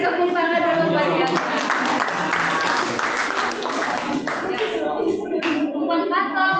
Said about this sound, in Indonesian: beri tepuk tangan dulu buat dia.